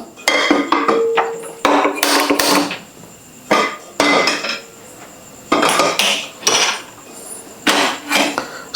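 A metal cooking pan is set on a kitchen stove, producing loud, close clanks, scrapes and rattles of cookware in repeated bursts separated by short pauses.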